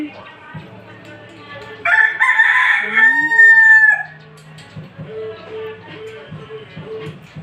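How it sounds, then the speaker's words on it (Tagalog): A fighting rooster crows loudly close by, a long strained call in the middle, with clucking and low chicken sounds before and after. "may panabong na manok"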